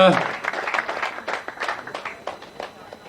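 Audience applause at an indoor show, a burst of clapping that starts strong and gradually thins out over a few seconds.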